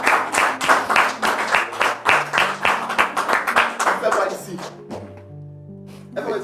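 A studio audience on a talk show set claps in a brisk burst of applause that fades after a few seconds, giving way to sustained musical tones.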